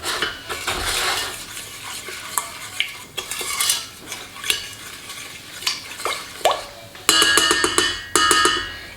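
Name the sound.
stirring sugar and water in a pan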